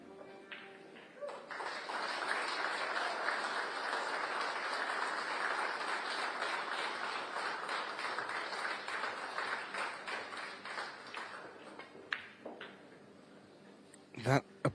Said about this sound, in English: That applause was not for Quoc's last shot